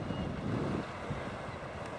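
Northerly wind blowing at sea during a sea kayaking trip along the north-east coast between Boddam and Bullers, with a southerly swell: a steady, close buffeting rumble of wind and water with no voices.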